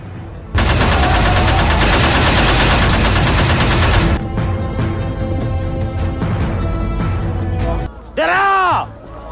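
Machine gun fire from Japanese troops, a dense loud burst of rapid shots lasting several seconds, followed by echoing reports and a brief wavering whine at the end.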